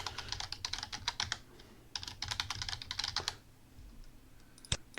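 Quick bursts of keystrokes on a computer keyboard as a password is entered, crisp clicking in two flurries with a pause between, close and quiet with no talk.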